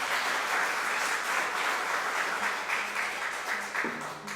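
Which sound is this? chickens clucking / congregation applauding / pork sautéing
congregation applauding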